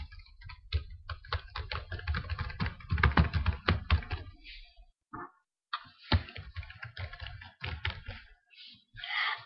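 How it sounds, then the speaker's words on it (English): Loud, rapid tapping noises made by hand, dense clicking bursts with brief pauses and scattered single taps, close and fairly sharp, with no talking over them. "now it's my turn to make tappy noises as best and loud as I can."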